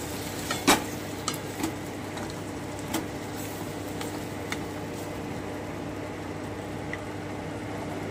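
Chicken biryani being stirred with water in a pot, soft scraping and a few light clinks of the spoon over a low, steady simmering hiss.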